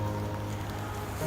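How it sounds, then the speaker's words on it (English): Light drizzle falls during an outdoor nature walk, a soft, steady patter of raindrops spread evenly through the short stretch, faint and continuous with no voices over it. "It's drizzling. A little bit rainy."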